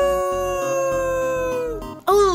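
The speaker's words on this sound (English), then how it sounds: "I can howl." A wolf horse character in the Roblox Horse World game lets out a long, steady howl over a sustained musical background, followed by a louder, sharper cry at the end.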